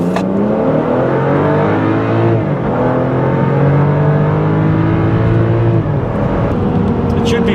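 A 2013 BMW X5 with a twin-scroll turbocharger accelerates hard from 0 to 60 mph at high altitude. The engine note climbs through rising pitch sweeps with gear changes, loud and close inside the cabin, with a voice talking over it.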